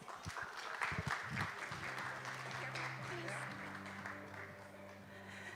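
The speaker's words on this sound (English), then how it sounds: "please welcome her with a big round of applause" An audience at a global partnership forum in Busan applauds to welcome a speaker, a sustained wash of clapping with a voice speaking over it at the start.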